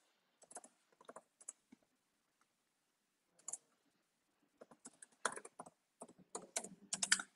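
Someone types an email address on a computer keyboard, with soft, close key clicks in scattered bursts, then a quicker, denser run of typing near the end, in an otherwise quiet room.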